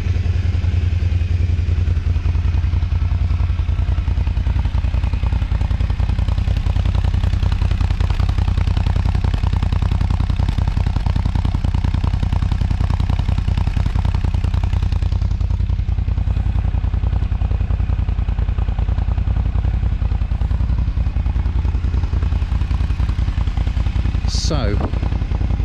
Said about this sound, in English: Just listen to the exhaust on this lot.